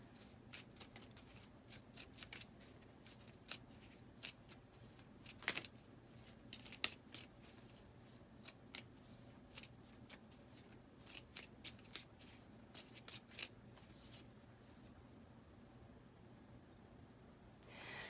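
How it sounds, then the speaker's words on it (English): An oracle card deck is shuffled and handled up close, with repeated soft snapping and riffling ticks scattered irregularly over a quiet background, ending in a calmer stretch. "let's draw a fairy oracle card"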